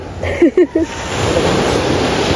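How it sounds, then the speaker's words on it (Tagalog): Surf washing onto a beach shore as a steady, broad wash of noise, preceded by a few brief voices or cries near the start. "dito na tayo sa tabing dagat"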